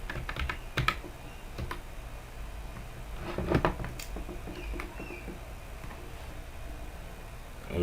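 Password typed on a computer keyboard, with sparse soft key clicks at close range and a few louder taps in a quiet room.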